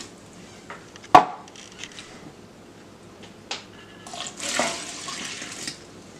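Warm water is poured into a bowl of flour and sourdough starter, beginning with a sharp knock and followed by soft, intermittent splashing that swells into a brief, fuller gush of pouring, fairly quiet overall.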